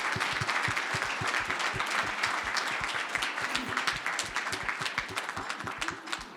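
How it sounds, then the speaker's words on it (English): Audience at a cancer charity gala and award ceremony claps steadily, with dense, close hand claps that keep a fairly even level throughout and no talking. "They deserve the biggest round of applause."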